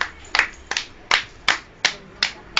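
Child clapping hands, seven sharp close claps in a fairly steady rhythm at about three per second, loud and crisp with no talk over them.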